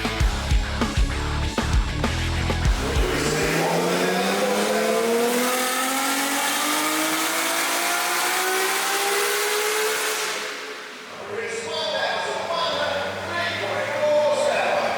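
A roughly 1,103-horsepower car revs hard on a dyno at Summernats, loud and close; the engine sweeps steadily upward through a long climb, then drops off sharply before settling into a rough, lumpy idle.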